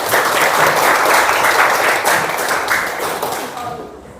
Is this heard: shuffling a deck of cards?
no